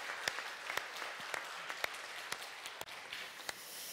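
A church congregation applauds its orchestra during a Sunday service, a quiet scattered clapping with distinct individual claps standing out, heard alone without talk.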